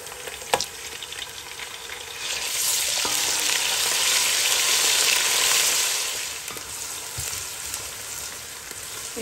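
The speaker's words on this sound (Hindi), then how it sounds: "इसमें मैंने लहसुन अदरक का पेस्ट डाल के इसको थोड़ा भून लिए" Garlic ginger paste sizzles and fries in a pan for Pakistani chicken biryani, a steady crackling hiss that swells louder midway and then eases, with faint stirring clicks and no talking.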